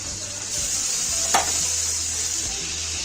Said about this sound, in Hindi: प्याज के साथ इसको भी अच्छे से फ्राई कर लेंगे हम